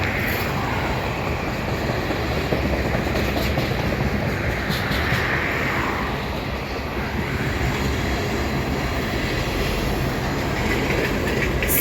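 A CN freight train with locomotives rolls past a railside spot on the Dundas Subdivision in London, Ontario, a loud continuous rumble and rattle of cars with rhythmic clickety-clack, steady throughout with no voices.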